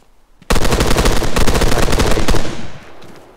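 Sustained automatic gunfire from an Arma 3 training exercise, a loud dense burst of rapid shots lasting about two seconds before trailing off into echoing tail.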